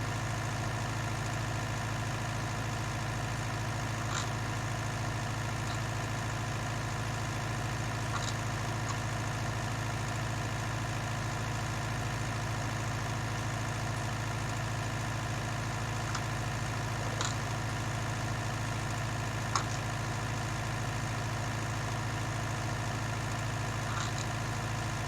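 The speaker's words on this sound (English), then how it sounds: "Tractor struggles a little bit more coming this way because we are on an uphill slope, so it's having to contend with the hill as well as turning soil" A 1966 Six Ashes tractor ploughing a field uphill while turning soil, its engine droning steadily and laboring under load with a constant low hum and faint rattles throughout.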